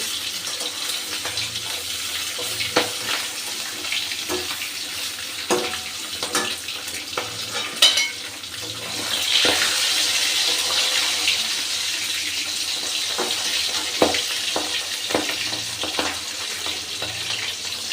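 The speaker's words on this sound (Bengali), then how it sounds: "মাছ ভাজা হয়ে গেছে, তারপরেও মাছগুলো ফুটছে।" Steady crackling hiss of fish frying in hot oil, with occasional louder pops and clinks of a utensil; no voices.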